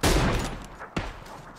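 VSS rifle fire in the shooter PUBG, a muffled burst at the start that trails off, then a single sharper crack near the middle, fairly close and alone.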